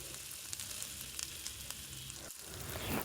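Sliced okra stir-fry cooks over a medium flame in a covered pan, giving a steady, close hiss and crackle of frying that carries on evenly throughout without any voices.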